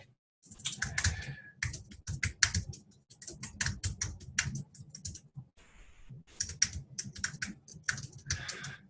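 Fingers type a prompt on a computer keyboard, sending quick bursts of close, crisp key clicks with short pauses between words and no talking.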